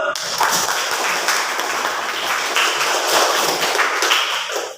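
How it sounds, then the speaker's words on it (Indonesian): Classroom applause from students in a school lesson, a steady dense patter of many hands clapping throughout, fairly loud and continuous with some scattered taps standing out. "Tepuk tangan dulu"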